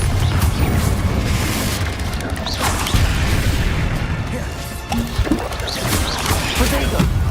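Confringo blasting spells in Hogwarts Legacy combat, heavy booming impacts and crashes repeating amid a dense, busy mix of spell effects, with some voice in the mix.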